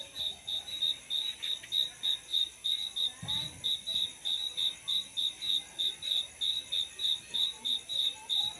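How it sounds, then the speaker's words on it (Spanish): Crickets chirp in a steady, evenly pulsed rhythm, a continuous high trill at night in La Huasteca Potosina, Axtla de Terrazas, Mexico, with a brief low bump partway through. "Pues ahí está el canto de los grillos."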